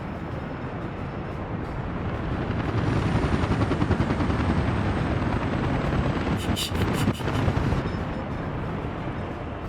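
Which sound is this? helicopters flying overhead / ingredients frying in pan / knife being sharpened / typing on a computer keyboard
helicopters flying overhead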